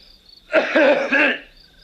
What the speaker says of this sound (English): He's just coughing.